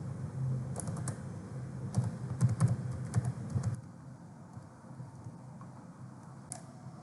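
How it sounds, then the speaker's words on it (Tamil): Quick bursts of computer-keyboard typing during ESXi network setup, a run of close, crisp keystrokes for about three seconds, then near quiet with one last isolated key click. "ஒன்ஸ் கான்ஃபிகர் பண்ணதுக்கப்புறம் என்ட்ரி கீயை ப்ரெஸ் பண்ணி ஓகே பண்ணிக்கோங்க"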